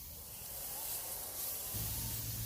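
Smashburger patties frying on a flat-top griddle, giving a steady hiss and sizzle that holds throughout, with a low hum entering near the end.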